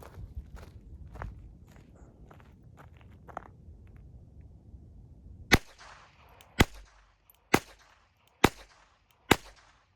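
Five sharp, evenly spaced .22 rifle shots fired with Remington Golden Bullet rounds, each a crisp, loud crack with a short ringing tail, following several seconds of quiet shuffling and handling noise.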